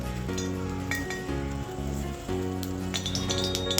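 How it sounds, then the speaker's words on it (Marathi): Washed spinach sizzles as it is tossed into hot oil in a kadhai, giving a close, crackling hiss with utensil clinks and brief tonal chimes, and no voices. "आता आपण धुतलेला पालक यात घालूया"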